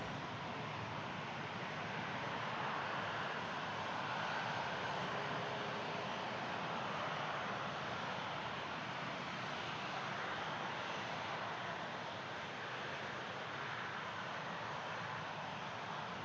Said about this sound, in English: A330 headed to its storage facility.